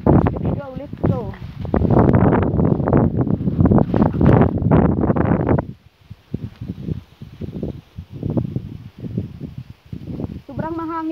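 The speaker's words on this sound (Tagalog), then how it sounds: "kaya nakikita ninyo sobrang mahangin talaga ngayon" Strong wind buffets the microphone outdoors, loud gusty rumbling that dominates the first half and then eases into lighter rustling, with a person talking through it.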